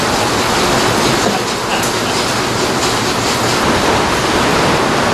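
Heavy monsoon rain pours outside a workshop as a dense, steady, loud broadband roar with no breaks and no voices.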